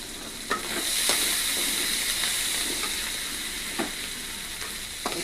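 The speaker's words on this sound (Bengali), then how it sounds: "চিংড়ি মাছ প্রায় ভাজা হয়ে গেছে।" Prawns fry in a hot pan with a steady bright sizzle and hiss, broken by several sharp stirring scrapes and clinks spaced through the few seconds, close and fairly loud with no talking.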